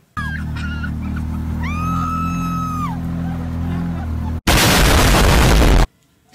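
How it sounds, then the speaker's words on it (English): A sled hit by an explosion: a sudden loud broadband blast lasting over a second that cuts off abruptly, preceded by droning tones and a rising-falling whistle-like call. "our first video is a sled with an explosion"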